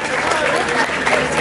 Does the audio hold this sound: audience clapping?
yes